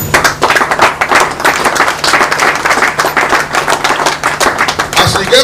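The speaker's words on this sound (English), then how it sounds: "If I ask all of you to start clapping for the minister," An audience claps for a minister at a televised event, sharp dense hand claps ringing out loud and close in a continuous irregular patter, with no speech heard.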